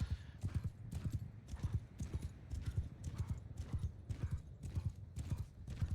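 Horse hooves clip-clop steadily in the video game Mount & Blade Bannerlord, a quick continuous rhythmic trot with soft thuds over faint background, moderately quiet and without talk.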